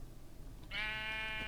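A single sheep in the Minecraft Alpha video game gives one steady, drawn-out bleat lasting under a second, clear and alone over a quiet background.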